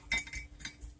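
Whisk clinking against a bowl while mixing pumpkin cinnamon sugar donut batter: several quick, light metallic taps in an irregular rhythm, close and fairly quiet, with no talking.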